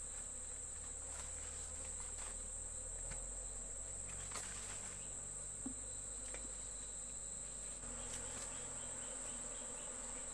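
Honey bees hum around an open hive with capped, ripe honey comb, a steady low insect drone filling the background with no voices.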